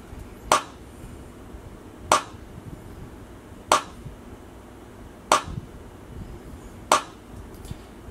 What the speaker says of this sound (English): Just a regular clap.